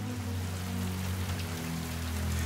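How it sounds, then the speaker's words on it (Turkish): Steady rain falls as a dense, even hiss of drops on a surface, close and constant throughout with no voices. "Önce bir damla düştü, sonra bir diğeri ve birdenbire gökyüzü ağlamaya başladı."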